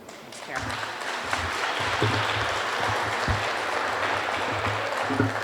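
Audience applause at an outdoor welcoming ceremony for a new H145 helicopter in Grande Prairie: steady, dense clapping from a crowd that holds at an even level throughout.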